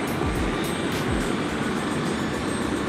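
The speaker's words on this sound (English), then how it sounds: "watching helicopters take off and land" Helicopters taking off and landing at a heliport in New York, heard as a steady, loud rotor and engine roar with faint rhythmic blade chop throughout, no voices.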